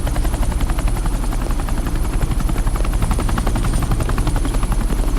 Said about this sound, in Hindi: ये हेलीकॉप्टर सीधे एयरपोर्ट के टारमैक पे लैंड होगा